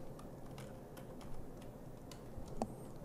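Computer keyboard typing during Civil 3D software entry: faint, scattered key clicks at an irregular rhythm over a quiet background.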